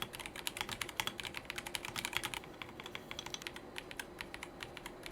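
Rapid, close-up typing on an Echo 5075B Plus mechanical keyboard in German ISO layout: a dense run of crisp keystroke clacks with no voices, the tempo easing slightly partway through.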